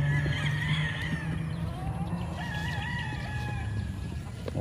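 A gamecock rooster on a Philippine breeding farm crows in repeated long, wavering calls, fairly close and clear, over a steady low background of farm noise and clucking.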